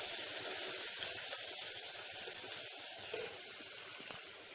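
Onions and ginger garlic paste frying for biryani give a soft, steady sizzle with faint crackles and an occasional stir, heard quietly and close up with no talking.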